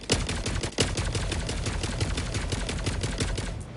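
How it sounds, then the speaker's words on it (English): Rapid automatic fire from the Scorcher weapon in a video game flag mission, a loud, dense stream of shots running steadily through the whole stretch with no talking. "the Scorcher is such a good weapon. It can take out these objectives from a distance"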